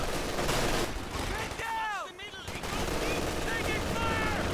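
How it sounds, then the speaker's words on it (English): In a strategy video game, an anti-infantry strafe lets loose rapid bursts of gunfire amid rattling battle noise and whistling sweeps, all at moderate volume. "In comes the anti-infantry strafe, and the threat of that forces all of those troops to retreat."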